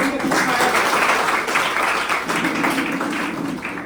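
An audience claps at a seminar-style talk, a continuous burst of applause blended with voices talking over it.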